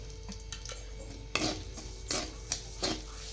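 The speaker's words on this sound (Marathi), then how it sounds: "तुपात छान मिक्स करून घ्यायचं सगळं" Roasted semolina being stirred with ghee in a pan: a quiet background broken by several intermittent metallic scrapes and clinks of a spoon against the pan, spaced irregularly.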